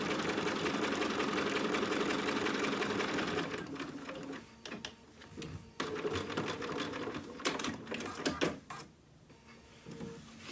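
A sewing machine basts a seam on a mouse dress dog outfit, running in a steady loud burst at first, then breaking into shorter stop-start bursts with small clicks and handling noises.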